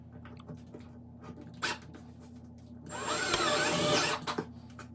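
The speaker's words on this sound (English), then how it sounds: "it is a self-drilling anchor, so it goes directly into the wall" Power drill driving a self-drilling toggle anchor into drywall, faint taps and short whirs first, then a louder burst of grinding drilling for about a second before it stops.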